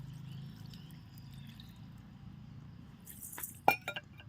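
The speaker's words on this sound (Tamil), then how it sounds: "ஸோ இது வந்து வேகறதுக்கு நம்ம வந்து கொஞ்சம் தண்ணி ஊற்றிக்கலாம்." Water is poured into a pot of chicken semi gravy cooking over a wood fire, a brief splashing pour followed by a sharp metallic clink of a utensil against the vessel over a low, quiet background hum.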